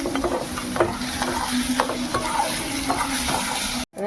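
Onions with salt frying in a pan for a spicy Bengali bele fish curry, a continuous close sizzle broken by repeated stirring scrapes and clinks, cutting off abruptly near the end.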